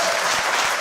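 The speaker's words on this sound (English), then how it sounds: "You need an applause." A short, steady wash of applause from an audience honoring a teacher's student, dense clapping heard close and continuous for under a second.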